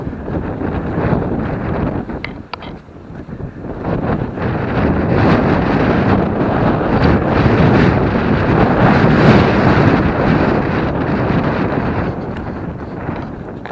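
Strong wind buffets the microphone on a countryside circular walk between Holmfirth and Hepworth, a loud rushing roar that dips briefly and then builds and holds, with no talk heard.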